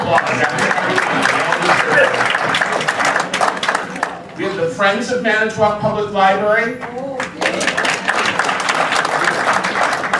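Applause from an audience at a Manitowoc public forum as sponsoring groups are thanked. Dense, steady clapping fills the opening seconds, gives way to someone speaking, then swells back up close and loud for the final stretch.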